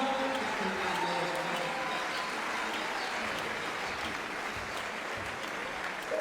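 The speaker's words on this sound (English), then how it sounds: "on peut applaudir en même temps s'il vous plaît, mesdames et messieurs" Crowd applause fills a basketball arena at a women's Olympic qualifying game between France and New Zealand, a steady wash of many hands clapping, distant and continuous throughout.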